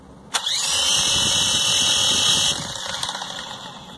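A worn rear motor on a G906 Pro drone whirs up after a sharp click, holding a loud, steady high-pitched whine that then drops to a lower, rougher spin. No one talks over it.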